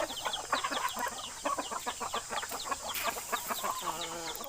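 Backyard chickens at a home cluck in rapid, overlapping bursts close by, a busy stream of short calls with a brief higher squawk near the end and no talking.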